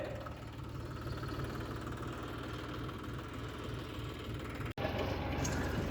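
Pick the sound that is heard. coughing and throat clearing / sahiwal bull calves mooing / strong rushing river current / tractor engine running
tractor engine running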